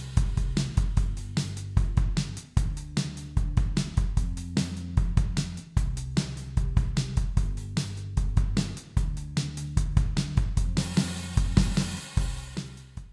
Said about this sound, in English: let's imagine that my starting bass line sounds like this.